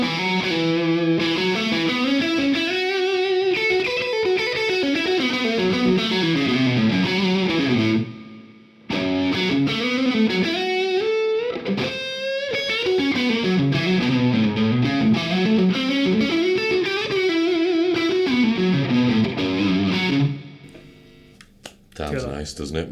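Electric guitar played through a Carl Martin PlexiRanger overdrive pedal with its boost engaged, heavily distorted riffs and sustained bends, loud and close, with a short pause midway and a fade at the end.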